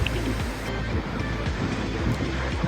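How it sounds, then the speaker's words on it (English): Vøringsfossen waterfall in Norway roars as a steady, dense rush of falling water, a continuous broadband wash with low rumble and no voices. "The Voringsfossen Falls, Norway's most famous and largest waterfalls."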